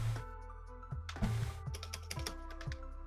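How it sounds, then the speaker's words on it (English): Quiet typing on a computer keyboard, with a short run of soft key clicks followed by a steady sequence of separate taps, faint and fairly close, with no speech. "I need to type something out"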